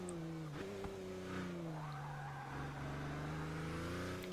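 An LMP1 prototype race car in the video game Forza Motorsport 6 drones at high revs, its engine pitch dipping briefly and then holding as it runs through corners, with steady engine noise and no speech.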